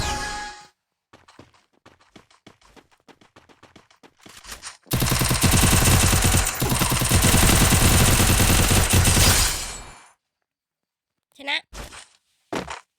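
Rapid bursts of automatic gunfire in the Free Fire video game: scattered single shots first, then a long dense loud volley lasting several seconds, and two short bursts at the end, with no talking.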